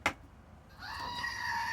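A pair of toy goats, one with one ear and one with none: a sharp click, a short pause, then a sustained, wavering mechanical bleat that grows louder and carries on, heard alone.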